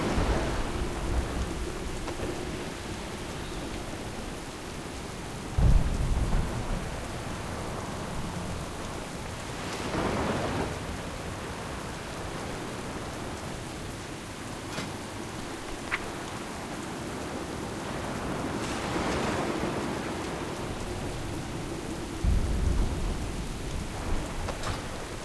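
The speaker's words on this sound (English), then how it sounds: "This storm will soon overwhelm us!" A thunderstorm from a World of Warcraft movie: rain hisses continuously while several deep rolls of thunder rumble up and fade at intervals, with no voices heard.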